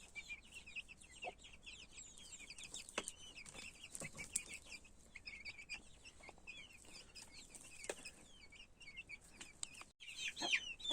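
Many small chicks peep in high, overlapping chirps, a constant busy twittering, with occasional louder clucks from grown fowl nearby, in a village garden.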